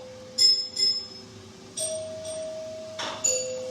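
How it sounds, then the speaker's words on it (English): A chiming doorbell rings close by, a few bright electronic tones in sequence, with a soft clatter between them in a quiet room. "That's not a knock at the door. That's my super cool doorbell."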